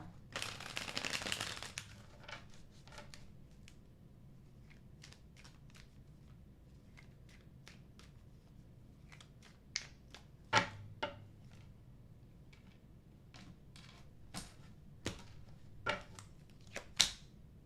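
Tarot cards are shuffled in a quick, close riffle burst, followed by soft, scattered taps and flicks as the deck is handled.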